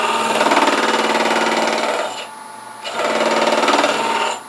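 A sphere cutting jig taking a cutting pass, giving a loud, steady, gritty scraping drone that breaks off briefly partway through and then resumes, close and without talk.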